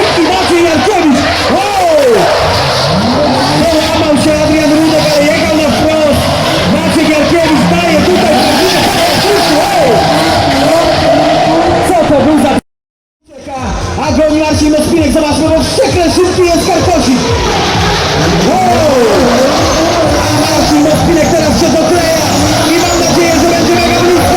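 Drift cars at a mountain drifting championship in Kłodzko, Poland, sweep through a corner with loud continuous engine roar and tyre squeal, a brief cut midway. Crowd noise and a commentator's voice run through it.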